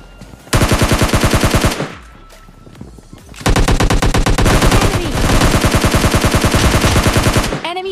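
Automatic gunfire in PUBG Mobile Lite, fired in loud rapid bursts: a long burst, a brief lull, then sustained fire lasting several seconds, close and dominant.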